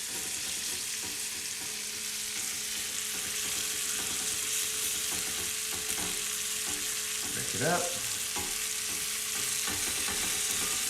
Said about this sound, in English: if you can hear that sizzling